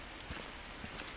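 Steady rain falling in the survival horror game Resident Evil 2 Remake, a soft continuous hiss of drops with a few faint patters, even and unbroken, with no voices.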